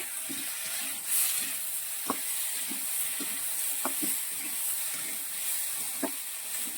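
Ginger-cumin paste sautéing in a pan for potato curry, a steady hissing sizzle over rhythmic spatula knocks and stirs repeating about every half second, close by and without talk.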